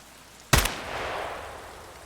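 A single sharp rifle shot cracks in the shooter game Escape From Tarkov, close and loud, with a long rolling echo trailing off across an open shoreline area.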